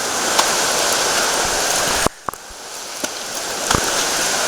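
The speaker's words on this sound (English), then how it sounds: "I think that's Madeline Creek." Creek water rushing steadily along a soaked stretch of the North Fork Skokomish trail, a broad continuous wash that cuts out abruptly partway through and then returns a bit quieter.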